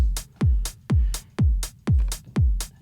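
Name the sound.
909 kick drum and hi-hat loop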